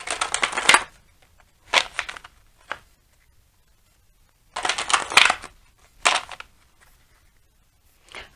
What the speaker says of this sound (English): We're going to pull a couple of Jennifer Walker Zen's Oracle cards just to round out this reading